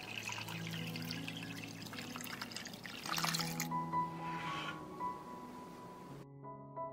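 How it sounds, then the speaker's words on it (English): Water is poured into a pot holding arranged glass jars on a cloth, trickling and splashing steadily at close range under a faint background hum. "I will pour water up to the height of the lid."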